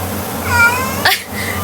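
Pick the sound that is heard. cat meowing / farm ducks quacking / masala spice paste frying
cat meowing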